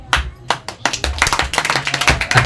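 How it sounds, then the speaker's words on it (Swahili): Hands clap in a church congregation for the Lord, loose sharp claps starting sparse and quickly building into a quicker, uneven rhythm of many hands, close and moderately loud. "Wewe, sipigie Bwana makofi kwanza."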